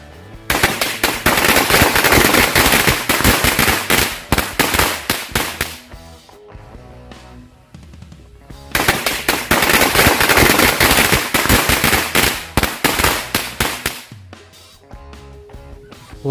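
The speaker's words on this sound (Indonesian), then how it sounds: "Mercon korek 2 gepok sekaligus." Two packs of 'mercon korek' firecrackers set off at once, loud rapid crackling bursts in two long volleys separated by a short pause, each lasting several seconds.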